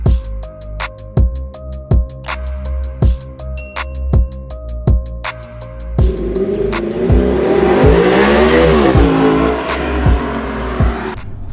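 An Audi R8 supercar driving and accelerating, its engine note rising through the gears with a rhythmic pulse. After a few seconds it swells into a loud, sustained roar, with no talking.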